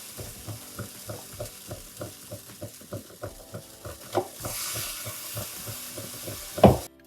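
An eggless pancake cooks in a ceramic-coated pan with a soft, low sizzle under a run of rhythmic tapping or stirring knocks, ending with a brief louder hiss.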